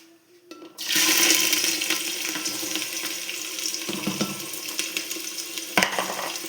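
Ginger and onion hit hot oil for aloo gobi, setting off a sudden loud, broadband sizzle that settles into a steady crackling hiss, close and continuous, with a sharp clack near the end and no talking.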